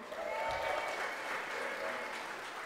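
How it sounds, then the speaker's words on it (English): Guests at a wedding reception applaud together, a dense, steady patter of many hands clapping at an even level for the whole short stretch, with no talking over it. "Let's give it another applause for Aulia's dad."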